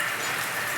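Steady, dense rain pours down outdoors as a continuous loud hiss with no breaks, drowning out other detail.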